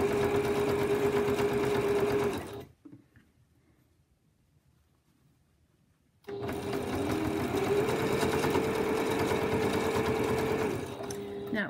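Up close, a sewing machine runs in two steady bursts of rapid stitching on potholder binding, separated by a few seconds of near silence.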